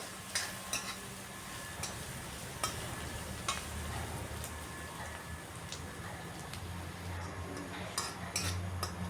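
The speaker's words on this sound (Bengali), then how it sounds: "পেঁয়াজটাকেও 5 ফোড়নের সাথে লাল লাল করে ভেজে নিচ্ছি।" Chopped onion frying in a pan with Bengali five-spice (panch phoron) gives a steady, moderate sizzle, with occasional spoon scrapes and clinks on the metal as it gets stirred.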